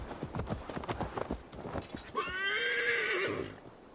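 Horses in the video game Assassin's Creed Valhalla clip-clop in a quick run, then one gives a loud, drawn-out neigh near the end, with faint game speech early on.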